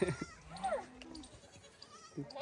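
Goats bleating on a farm, with a couple of wavering calls standing out over a quiet, murky background.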